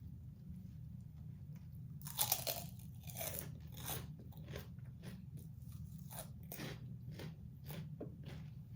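Close, crisp crunching bites of Taco Bell food, such as chips and a twisted sweet crispy treat, followed by repeated chewing, quiet and intermittent with no talking.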